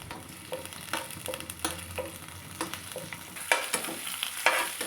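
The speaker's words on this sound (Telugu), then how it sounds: "అల్లం ముక్కలు, కొంచెం కరివేపాకు, మొత్తం ఒకసారి ఇలా ఫ్రై చేసుకుందాం." Ginger pieces and curry leaves frying in a pan give a crackling sizzle, broken by repeated sharp scrapes and clinks of a spatula stirring, close by with no talking.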